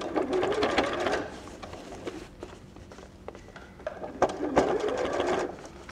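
A sewing machine stitches fabric for an overnight bag in close, rapid mechanical bursts: a long run, a quieter stretch with brief stops, then another fast run near the end.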